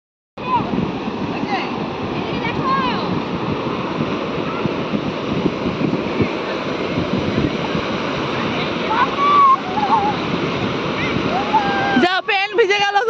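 Sea waves roll onto the beach at Bakkhali in a continuous, loud surf wash mixed with wind rumble, while people talk and call out nearby throughout.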